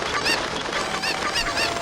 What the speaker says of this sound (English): wakes up to the sound of chickens outside